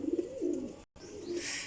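A Sialkoti Sheikhan pigeon cooing close by, two or three soft low throaty coos with a brief gap, alone without talk.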